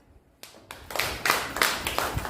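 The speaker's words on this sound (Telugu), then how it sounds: "క్లాప్స్." Children clap their hands in a classroom activity, starting after a short quiet moment and building into a loud run of about half a dozen uneven claps, close by with no talking.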